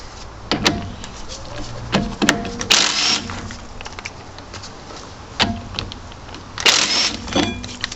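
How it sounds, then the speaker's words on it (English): An impact gun undoes 17mm rear brake caliper bolts on a Peugeot, sounding in several short, loud rattling bursts separated by quieter pauses and clanks; no voices. "Now I'm going to use the cheap method with a gun, but of course you could use a ratchet"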